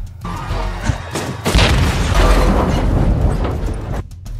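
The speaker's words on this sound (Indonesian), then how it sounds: "Setelah bom itu meledak" A deep booming explosion rolls out in a dense, rumbling roar that sustains for a few seconds before cutting off abruptly.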